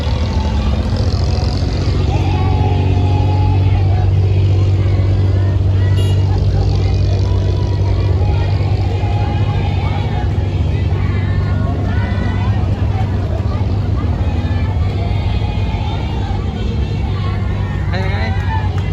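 Loud, steady low engine drone of boats running on Dubai Creek at Deira, with a babble of voices, singing and shouting mixed in.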